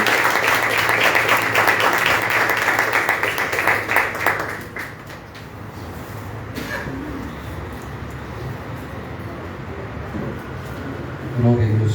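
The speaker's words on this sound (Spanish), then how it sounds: "Con un fuerte aplauso de cariño" Church congregation applause rings out strongly for about four seconds, then fades as a voice begins speaking over a quieter room.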